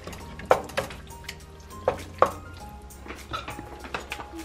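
Vegan chili being stirred in a pot, with intermittent scraping and clinking of the spoon against the pot and a few sharper knocks, close and moderately loud.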